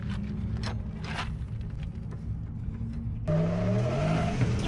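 A drift car fitted with new tyres rolls out onto the west track at Teesside, its engine droning steadily, then a louder, rising rev swells nearer toward the end.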